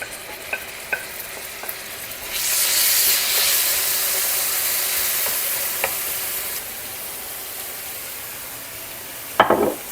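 Kale and garlic hit hot olive oil with a burst of loud sizzling that hisses steadily for several seconds, between small clinks of a utensil, then a sharp clatter at the end.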